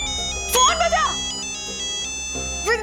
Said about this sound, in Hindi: प्लीज प्लीज फोन बजा।